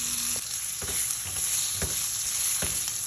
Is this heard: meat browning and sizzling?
yes